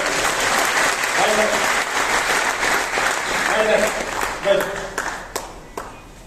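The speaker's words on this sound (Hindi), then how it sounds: "इस बच्चे के लिए तालियां थोड़ा" Audience at a talk about a Kargil War Param Vir Chakra recipient claps for a child, a dense round of many hands close by that thins into scattered claps near the end, with a voice speaking over it.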